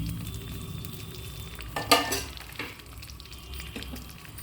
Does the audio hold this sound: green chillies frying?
yes